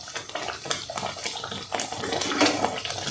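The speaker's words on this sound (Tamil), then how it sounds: "இப்போ தேவையான அளவு தண்ணி விட்டுக்கலாம்." Water is poured into a pan of tamarind-tomato masala for a Tamil coconut fish curry, splashing and gurgling unevenly at close range for a few seconds, with no talking.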